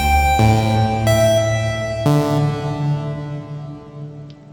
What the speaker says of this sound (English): we've got these two instruments,